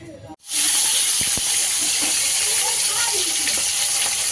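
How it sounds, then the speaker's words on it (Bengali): Pieces of rohu fish fry in hot oil with a loud, steady sizzle that starts abruptly after a brief pause and hisses on without break. "তেল গরম হয়ে গেছে মাছগুলো কেটে দেওয়া হচ্ছে ভাজার জন্য"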